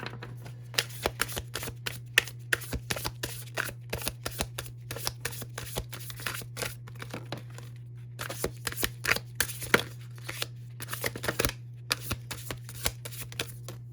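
Tarot cards shuffled and drawn by hand, a close, steady run of soft riffling flicks and slaps across the whole stretch, with brief pauses and a constant low hum underneath.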